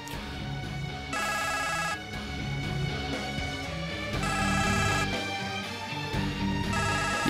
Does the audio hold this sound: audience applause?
no